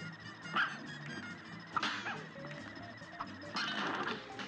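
Cartoon dogs bark and yip during the Howling Aces boss fight in the Cuphead DLC video game, several sharp barks in bursts over busy game music and crashing effects.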